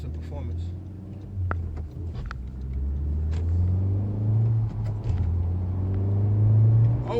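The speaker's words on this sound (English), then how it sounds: "So first gear, let's go out gently, give it some performance" A Honda Civic Type R's engine rumbles low and rises as the manual car pulls away in first gear, revving gradually louder, with a voice talking over it.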